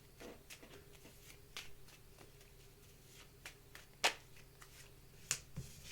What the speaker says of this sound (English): Let's just give this a quick shuffle here.